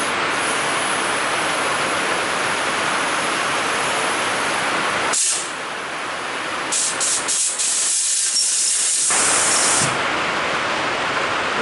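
Compressed air from an air hose hisses loudly and steadily through a CVA Stalker rifle barrel to clear out brake cleaner, broken by a couple of short pauses and sputtering bursts.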